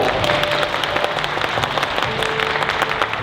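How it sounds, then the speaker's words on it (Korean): Steady applause from a seated crowd welcoming guests at a ceremony for the departure of a Korean high-speed train exported to Uzbekistan, many hands clapping continuously with a faint tone beneath. "한 분 한 분 호명될 때마다 따뜻한 박수."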